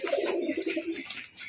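Pigeons coo softly and continuously at close range while a male pigeon feeds its chicks, with a few faint higher chirps mixed in.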